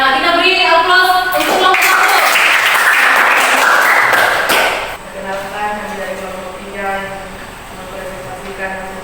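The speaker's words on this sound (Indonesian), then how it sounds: "Ya, kita beri aplaus untuk kelompok 1." Applause for a student group in a classroom lesson, a burst of clapping from many hands lasting a few seconds with a voice over it, then fading into continued talk.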